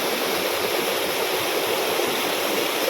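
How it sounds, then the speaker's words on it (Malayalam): A rushing stream flows toward Shoolam waterfall, a loud, steady, close wash of water with no voices over it. "ഈ വെള്ളം ഇവിടെ ചെന്നിട്ട് അതിൻ്റെ താഴത്തോട്ട് ഒരു വലിയൊരു വെള്ളച്ചാട്ടമാണ്"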